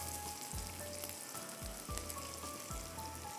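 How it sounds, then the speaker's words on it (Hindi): Garlic sizzles steadily in a hot pan with a soft, constant crackle and a few low knocks, quiet and close. "थोड़ा सा फ्राई करेंगे जब तक कि गार्लिक का कच्चापन ख़त्म हो जाए।"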